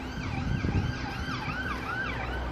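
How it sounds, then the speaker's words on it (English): A police car siren passes, its wailing tone rising and falling in repeated sweeps, loud and steady over a low traffic rumble, with no voices. "That's a police car."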